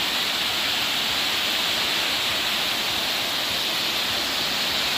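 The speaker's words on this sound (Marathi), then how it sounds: "पाण्याचा खळाचा आवाज त्या थेरोपेटिक वाटतोय" Waterfall near Shillong, Meghalaya, running low outside the monsoon, gives a steady, dense rushing roar that stays loud and unchanging throughout, with no voices.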